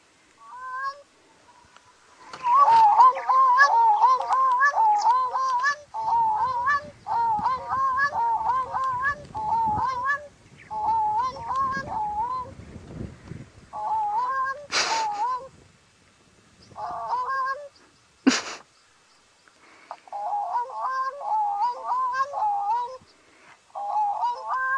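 A played recording of a flock of birds calls out in repeated honking bursts, goose-like cries in rapid overlapping bouts with short pauses between, plus a couple of sharp clicks.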